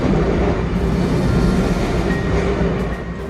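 A train rolls steadily along rail tracks, a loud, dense rumble of wheels and carriages sustained throughout with no voices.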